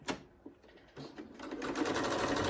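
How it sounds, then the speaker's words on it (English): A sewing machine stitches two fabric quilt squares together on a 1/4 inch seam, starting with a few short bursts and then running in a steady, close, continuous whir that builds in loudness. "we're just going to line it up with this one. And we're going to sew it"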